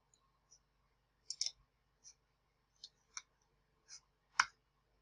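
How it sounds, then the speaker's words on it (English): Computer mouse clicks, a series of faint, sharp, isolated clicks in a quiet room, including a quick close pair like a double click, with no talking. "So I'm going to double click on that."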